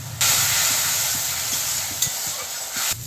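Spice paste of green chilli, garlic, turmeric and Kashmiri chilli powder fries loudly in a pan, a strong continuous sizzle and hiss with faint scraping as it is stirred.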